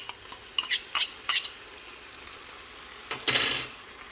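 Potatoes frying in oil in a pot, with bursts of hissing spatter and scraping stirs in quick clusters early on, then a longer sizzling burst near the end over a quiet background.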